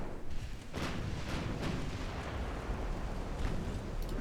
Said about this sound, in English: Come on, wind up and fire again.